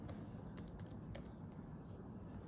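Quick keystrokes on a computer keyboard come in a few short, irregular bursts of crisp clicks, close by and faint, over low room hum, with no talking.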